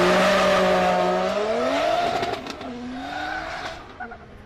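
A JZ-engined Nissan S14 drift car at full throttle in a British Drift Championship qualifying run, its engine note loud and close, rising and falling in pitch through revs and shifts, with tire squeal as it slides.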